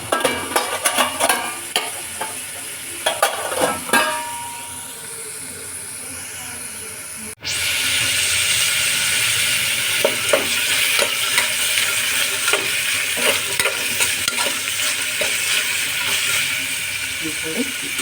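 Vegetables for a mixed vegetable pulav fry in a pan with steady loud sizzling and hiss, broken by repeated stirring scrapes; the sizzle jumps louder midway as more goes into the hot pan.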